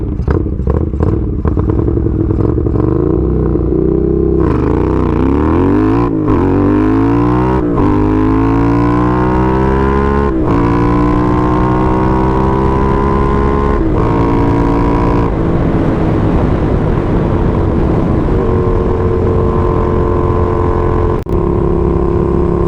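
A Honda CX500 motorcycle engine climbs through the gears, its loud, close note rising and dropping with each upshift across several pulls before settling into a steady cruise.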